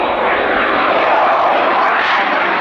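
A four-nation jet fighter makes a slow pass with its landing gear down at an air show, its broad, steady roar loud and close, swelling slightly as it passes with no voices over it.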